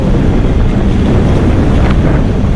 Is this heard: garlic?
no